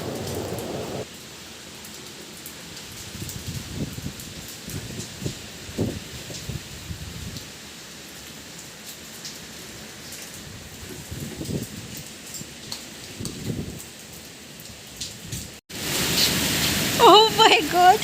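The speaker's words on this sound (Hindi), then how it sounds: "मैं आप लोगों के साथ भी बारिश जो है वो शेयर करती हूँ" Rain falls steadily at night as a continuous soft hiss, while someone talks intermittently over it and the sound grows louder near the end.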